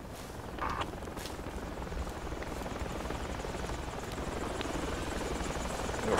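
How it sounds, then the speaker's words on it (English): A friendly helicopter flying overhead in a military video game, a continuous loud rotor drone that grows slightly stronger toward the end, with a few faint clicks on top. "A friendly chopper above it."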